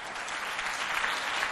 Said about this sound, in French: On applaudit pour le monsieur qui est là